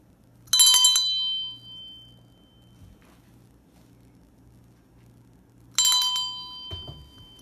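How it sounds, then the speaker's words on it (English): A bell rung to call a cat gives two bright, ringing strikes several seconds apart, each loud and close with a shimmering decay, in an otherwise quiet room. "Let's see if Neo responds to the bell when he's upstairs and I'm downstairs"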